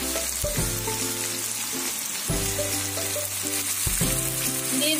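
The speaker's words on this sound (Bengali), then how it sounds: "এখন আমি দিয়ে দিব কুচিয়ে রাখা করলাগুলিকে।" Chopped bitter gourd frying with shrimp and onion in hot oil, a steady loud sizzle with low tonal hum underneath and occasional stirring, no talking.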